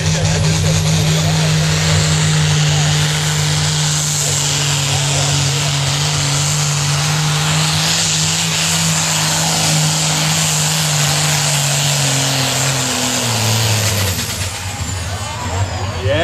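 A pulling tractor with a Deutz engine roars loud and continuous at a tractor pulling event in Herning, a sustained deep drone with the pitch dropping near the end.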